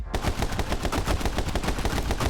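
Rapid automatic gunfire from the video game My Friend Pedro, a dense, loud, continuous burst of shots that lasts throughout with no pauses.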